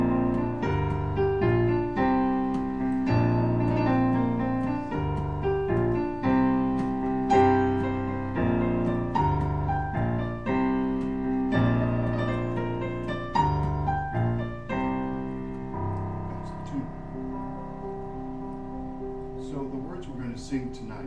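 A lively Irish tune, Dúlaman, plays as continuous full-band music with steady rhythmic chords and melody, fairly loud and clear, with no talking over it.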